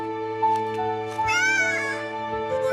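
A greedy cartoon cat in a Tamil children's moral story, set in a village, gives a couple of clear, drawn-out meows over sustained background music.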